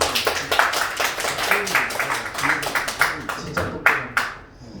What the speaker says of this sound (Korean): 큰 박수 한번 주시죠